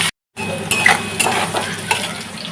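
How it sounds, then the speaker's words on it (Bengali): Bay leaves and whole cumin seeds crackling in overheated oil for cabbage chachchari, a steady close sizzle with a few brighter spits and clinks of utensils after a short silent gap. "তেজপাতা আর গোটা জিরে দিয়ে দিও। তেলটা বেশি গরম হয়ে গেছে"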